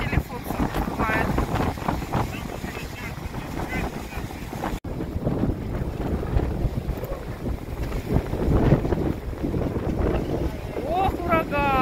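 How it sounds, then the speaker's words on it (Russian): Strong gusting wind buffets a phone microphone on a cliffside coast in Crimea on a February day, a loud continuous roaring rumble throughout, with a voice speaking in the clip. "Это сильными ветрами. Ветрища, телефон закрывает."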